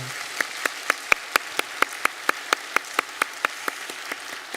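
A church congregation at a Sunday service claps in welcome for two newly registered families, a thin spread of applause with regular sharp claps standing out, steady throughout without voices.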